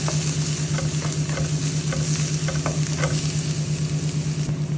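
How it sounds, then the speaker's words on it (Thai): Shallots and garlic stir-fry in a pan with a loud, continuous sizzle, sharp crackles scattered through it over a low steady hum. "ใส่ลงไปผัด ผัดให้หอม"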